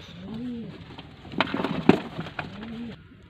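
Pigeons at a breeder's loft in Lahore coo in soft, low rounded calls, two clear coos opening and closing the stretch, with rustling and a sharp clatter of handling or wing movement in between, close by.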